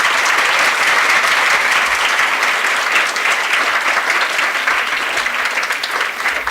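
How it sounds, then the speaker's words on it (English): Sustained applause from a school audience honoring a teacher, dense steady clapping filling the whole stretch at full loudness, with no voices rising above it. "give her a big round of applause"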